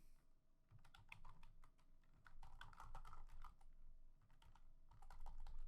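Quiet typing on a computer keyboard, with irregular bursts of soft key clicks close to the microphone and no talking.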